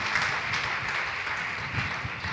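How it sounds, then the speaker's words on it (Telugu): A church congregation claps together during a sermon: a soft, continuous patter of many hands heard from a distance, with no clear voices. "చప్పట్లు కొడదాం దేవుని దగ్గర."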